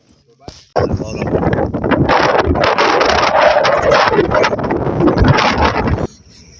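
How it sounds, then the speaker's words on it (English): Strong wind on an open Antarctic plateau buffets the microphone in a loud, continuous roar for several seconds, then cuts off abruptly. "It's actually a lot windier than we think"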